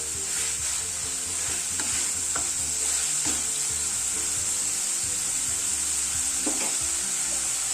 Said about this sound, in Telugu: చికెన్ని హై ఫ్లేమ్లో బాగా ఇలా వేయించుకోవాలండి.